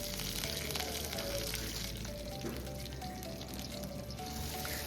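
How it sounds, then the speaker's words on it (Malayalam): Mustard seeds, dried red chilies and curry leaves sizzle and crackle in hot oil in a Kerala kitchen, a dense continuous frying hiss with scattered pops, steady and close. "കടുക് പൊട്ടി വരുമ്പോൾ നമുക്കതിലോട്ട് 2-3 വറ്റൽ മുളകും കുറച്ച് കറിവേപ്പിലയും"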